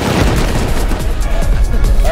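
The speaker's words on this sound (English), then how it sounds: "Shoot the walls." Gunfire pounding base walls during a raid in Rust, a dense barrage of booming shots close and loud, with voices talking under the noise.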